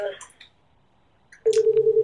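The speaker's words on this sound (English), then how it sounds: "We're just going to ignore that phone call." Telephone tone sounding for an incoming call, a steady loud repeating electronic ring that starts suddenly after a quiet pause, following brief chatter at the start.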